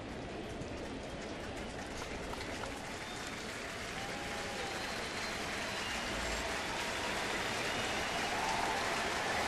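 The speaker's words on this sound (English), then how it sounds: "We'll listen to the round of applause for Lohse as we head to break." A baseball crowd at a Colorado at St. Louis game gives sustained applause for pitcher Lohse, a dense, even wash of clapping that holds steady and swells slightly toward the end.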